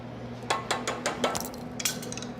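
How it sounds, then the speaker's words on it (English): Spatula scraping bloomed gelatin from a bowl, a series of short clinking scrapes against the dish, close and moderately loud over a steady low kitchen hum. "Go ahead and scrape out the bloomed gelatin"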